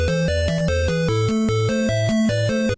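Standard Tetris theme playing from a Game Boy cartridge: a chiptune melody over a bouncing bass line, steady and continuous, with no voices.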